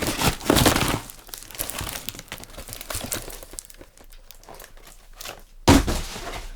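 Packaging crinkles and tears during a rushed unboxing, with loud bursts of crumpling at the start, scattered rustles and handling taps in the middle, and another sharp crinkle near the end, all without talk.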